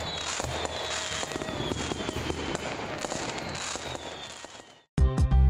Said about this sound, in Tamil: அந்த பட்டாசு எல்லாத்தையுமே புஜ்ஜி குருவியும் அந்த புஸ்வானமும் சேர்ந்து வெடிச்சாங்க.